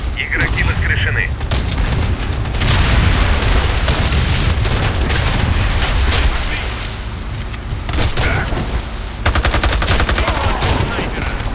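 Rapid bursts of video game gunfire and booming shots fill a multiplayer shooter battle, with dense, sustained automatic fire and brief pauses between volleys; voices are heard over the shooting.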